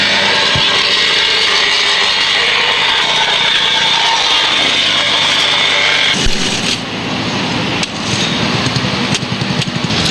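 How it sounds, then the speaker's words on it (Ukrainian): A vibratory plate compactor tamps hot asphalt patching on a city street. A loud, steady mechanical drone and rattle runs throughout, wavering and sputtering near the end. "Затрамбували, он віброплита в нас для цього є."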